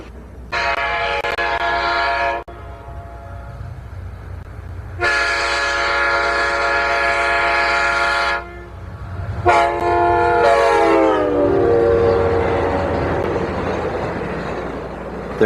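An Amtrak passenger train sounds its horn in three long, loud blasts, the last one bending lower as the train passes close by, with a low rumble of wheels underneath.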